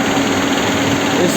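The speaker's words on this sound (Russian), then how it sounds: "балансировочные валы шумят. Вот послушайте, вот с поддона вот отсюда хорошо слышно." A 2.4-litre 2AZ engine in a 2006 or 2007 Toyota Estima runs with noisy balance shafts, heard near the oil pan as a steady, loud mechanical whir and rattle that holds without a break.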